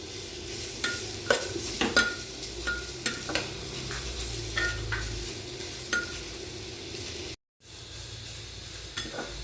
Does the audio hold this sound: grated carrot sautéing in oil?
yes